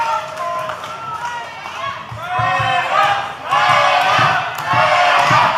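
Crowd in the Hot Point Davis Arena cheering and shouting at an OVW women's wrestling match, a loud sustained roar that swells in waves.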